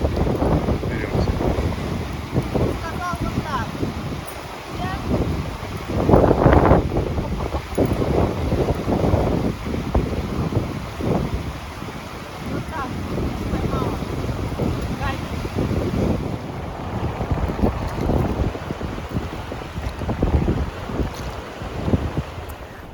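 Strong wind roars and buffets the microphone nonstop beside a fast river while fishing, over the wash of water, while someone talks throughout.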